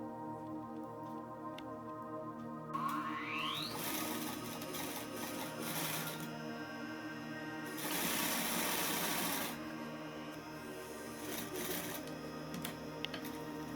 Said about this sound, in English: Sew on both sides of the pocket lining